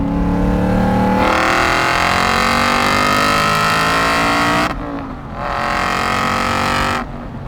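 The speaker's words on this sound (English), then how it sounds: "over a certain RPM, those valves open up, and I think even my cameraman Evan noticed" A 2007 Aston Martin V8 Vantage with very low mileage revs hard from idle, its exhaust valves opening into a loud, rasping roar, then it dips briefly and surges again before falling back; close, with no talking.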